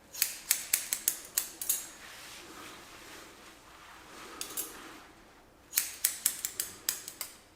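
Scissors cut hair on top of a head in quick bursts of crisp snips, one volley, a pause of quieter handling, then another rapid run, close and clear with no talking.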